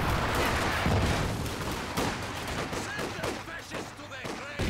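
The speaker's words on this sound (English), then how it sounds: "machine gun coming in from the side with the suppression" Rapid gunfire and scattered shots from a Company of Heroes 2 multiplayer battle, a machine gun firing in bursts amid dense combat noise, with a voice talking over the action.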